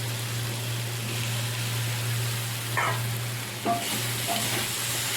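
Okra being stirred into potatoes in a pan, a steady sizzle over a low constant hum, with a couple of brief scraping stirs and small knocks, no speech.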